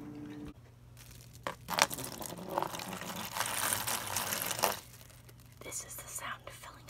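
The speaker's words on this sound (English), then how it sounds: "This is the sound of filling up your pet's water bowl knowing that they're gonna make a mess of it in like 20 minutes." Water poured into a pet's water bowl, a gurgling splashy pour in the middle with soft handling noises and clinks before and after, close and intimate.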